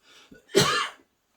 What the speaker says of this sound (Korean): 제가 지금 짧은 시간에 이렇게 유튜브 방송하는데도 기침이 나오고 그러잖아요